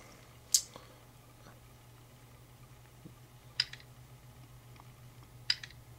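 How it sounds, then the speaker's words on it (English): A search query is typed in a quiet room: a few sparse, isolated key taps, with three sharper clicks standing out at irregular intervals over a low steady hum. "and I'll just type in"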